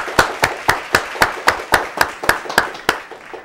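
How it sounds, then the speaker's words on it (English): Applause from a studio audience at a downtown Kenosha talk show, a steady run of about a dozen loud, evenly spaced claps close to the microphone, fading slightly toward the end. "Let's give a big round of applause for Chris Naumann for coming on."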